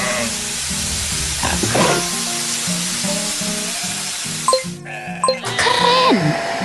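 A cartoon sheep in an animated farm scene bleats in several short, wavering calls over a busy, rhythmic background, with a bright burst of sound near the end.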